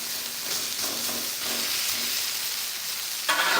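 Tater tots crisping on a Blackstone griddle give off a steady, fairly loud broadband sizzle that holds evenly throughout, with a brief brighter hiss surge near the end.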